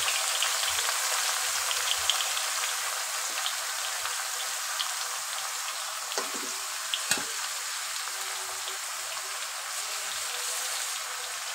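Potato, eggplant and jackfruit seeds fry in a pan with a constant crackling hiss, steady sizzle and scattered pops and spits, close and continuous.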